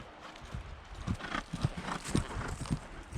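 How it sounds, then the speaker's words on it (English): A horse cantering past on a path, hoofbeats thudding in an uneven galloping rhythm, moderately faint and growing nearer over outdoor ambience. "I can definitely hear that there's a horse there."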